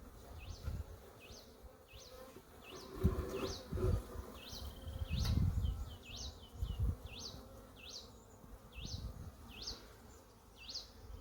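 Honeybees buzz steadily in an opened hive, a close, continuous drone with faint rising whines cycling above it and occasional soft knocks and handling noises, with no talking.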